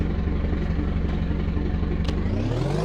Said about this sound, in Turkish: Evet bu normal motor sesimiz.